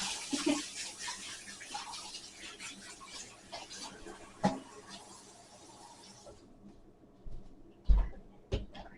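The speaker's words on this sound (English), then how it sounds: "I'm gonna have to add just a little bit of water to that." Water runs steadily for about six seconds as a little is added to pumpkin cookie dough, then stops, followed by a few soft knocks and clunks from the kitchen.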